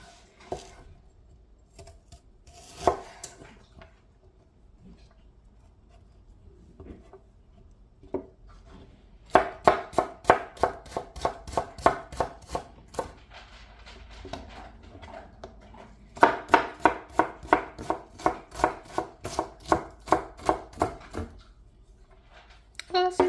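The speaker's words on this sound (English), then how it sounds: "onion is all sliced up" Knife slicing an onion on a cutting board in a home kitchen, with quick bursts of rhythmic chopping taps separated by quieter stretches and occasional talking.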